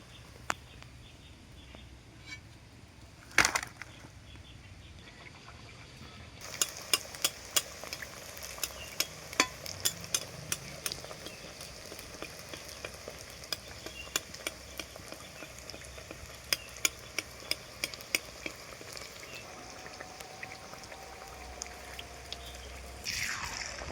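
Sago luchi fry lightly in hot oil, giving a soft, continuous sizzle broken by frequent sharp pops and clicks. A louder knock comes early on, and the bubbling grows busier after the first few seconds.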